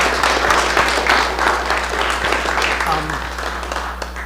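An audience at a talk on Sikkim in the Himalayas claps steadily and warmly to welcome speaker Ken Haigh, the applause filling the room at an even level under a low constant hum.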